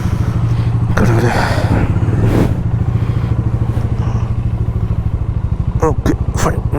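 A motorcycle engine runs steadily and loudly up close on a congested road on the Hyderabad to Nagpur route, a low throbbing drone with a few clattering thumps, while someone talks over it.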